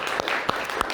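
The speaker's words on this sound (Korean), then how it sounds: "하나님께 영광의 박수를 올려드리겠습니다" A church congregation at a Sunday worship service claps together, with a short burst of close, crisp handclaps in a loose rhythm.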